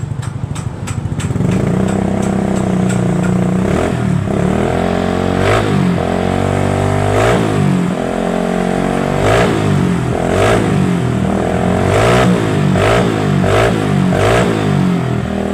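A Honda Beat motorcycle with a modified exhaust revs loudly and repeatedly, its engine rising and falling in steady bursts with sharp crackles, close by and continuous throughout.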